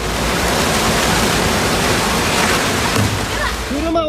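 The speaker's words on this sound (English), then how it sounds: "In July 2021, a devastating landslide occurred in Atami City, Japan, following record-breaking rainfall in the region." Heavy water and debris rushing in a landslide after record rainfall in Atami City, Japan, a loud, steady roaring wash filling the whole stretch.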